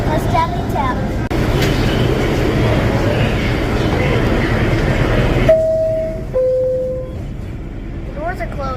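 A New York City subway 4 train rumbles and clatters loudly along the tracks, then slows as electronic tones sound, with voices talking faintly nearby.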